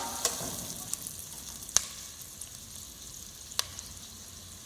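Onions, carrot and celery for a tomato sauce frying in a pan, a steady soft sizzle with a few sharp clinks as the vegetables are stirred, close and fairly quiet, no voices.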